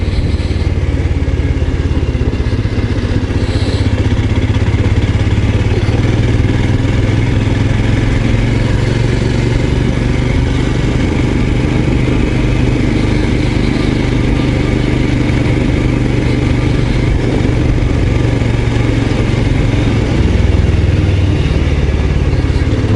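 A Royal Enfield Scram 411 motorcycle is ridden along a road, its engine giving a steady, low rumbling drone with mild mechanical clatter and wind noise, continuous and close throughout with no pauses.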